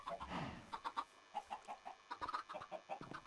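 Chicken clucking in Minecraft, a run of short, evenly spaced clucks at moderate level with a denser burst near the start, heard alone without talk.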